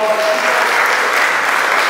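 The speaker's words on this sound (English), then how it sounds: "Give him a round of applause" A crowd claps for a performer named Jeannie at a live event, a short burst of dense, even applause filling the space, loud and continuous without any talking.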